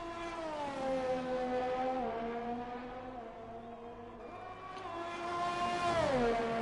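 A Formula 1 race car in the F1 2020 video game, at the Netherlands circuit, roars with a steady high-pitched engine whine that rises and falls through gear changes, loud and continuous, dipping sharply near the end.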